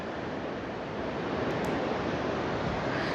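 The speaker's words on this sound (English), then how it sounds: "it's gonna be really windy, so my voice might cut out" Strong coastal wind at Point Cartwright, Australia, buffets the microphone in a loud, continuous roar that swells slightly louder partway through, with no voices.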